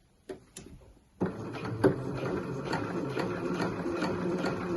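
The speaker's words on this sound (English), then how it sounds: "So I'm going to pop that on the machine and just baste that in place" A sewing machine basting a sleeve onto a Breton stripe tee: a few quiet clicks and a thump, then a steady, fast rhythmic stitching whir that carries on to the end.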